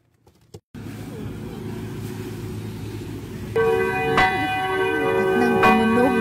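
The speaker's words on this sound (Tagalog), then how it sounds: "At nang tumunog na ang kampana," A church bell rings out over a steady engine-like rumble, struck a couple of times with a ringing tone that lingers.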